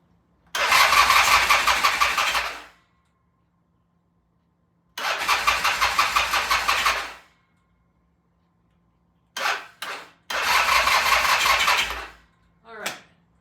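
A Norton motorcycle named Starship Snoopy cranks on its first start attempt: three long bursts of starter churning, each about two seconds, separated by silence, with a couple of brief hesitant coughs near the end.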